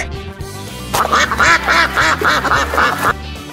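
A duck quacks repeatedly in a quick, loud series of nasal calls, preceded by a short stretch of quiet background tones.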